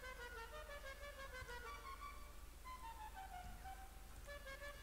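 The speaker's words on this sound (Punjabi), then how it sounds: "ਹਾਰਨ ਵੇਖਦੇ ਆ" Modified Dubsta 6x6 off-road truck horn in GTA 5, sounding a series of bright, multi-tone melodic honks that step up and down in pitch across several seconds, played fairly quietly over a low steady hum with no talking.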